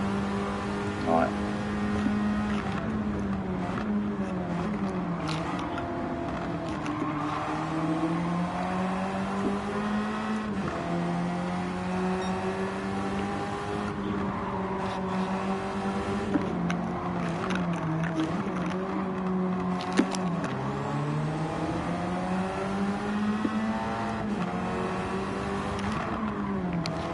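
A Radical race car engine in a racing video game holds a continuous high-revving drone, rising and falling through gear changes and corners for the whole stretch, with someone talking quietly over it now and then.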